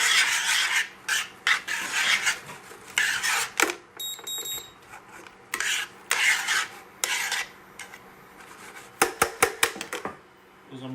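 Salt and pepper being stirred into a pot of sweet sausage and pepper ragu with tomato, a series of soft scraping, rasping strokes in bursts close by, with a few sharp clicks and taps near the end.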